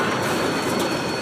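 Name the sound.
train approaching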